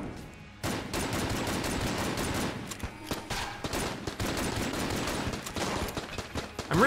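Blink pistol gunfire in the video game Enter the Gungeon: a rapid, continuous stream of shots that rattles on for several seconds at a steady, fairly loud level.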